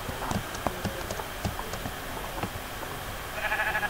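Minecraft sheep bleat faintly amid soft clicking and tapping, with a few short bleats scattered across the clip and a slightly louder cluster at the end.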